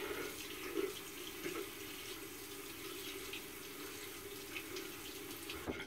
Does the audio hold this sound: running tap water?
yes